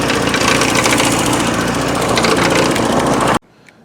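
A 1984 Porsche 944 engine runs steadily and loudly up close with a rapid rattling knock throughout, then cuts off abruptly near the end, leaving near silence.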